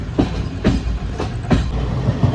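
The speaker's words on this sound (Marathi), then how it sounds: "गाडीने आपली फुल स्पीड पकडलेली आहे" The Tutari Express runs at full speed at night after leaving Panvel, heard from inside a coach in the monsoon. Wheels clack in a regular rhythm over rail joints beneath a steady rumble.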